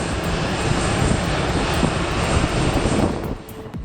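A Boeing 747 jet engine under thrust gives a loud, steady, broadband roar that holds constant and drops off slightly near the end, with no voices present.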